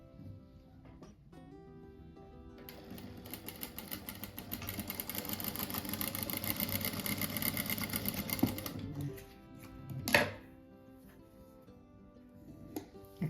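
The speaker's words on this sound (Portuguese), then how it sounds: "Vou costurar aqui pra mostrar" A sewing machine stitches small fabric scraps together for a rug, running steadily for several seconds before stopping, followed by a brief sharp handling noise.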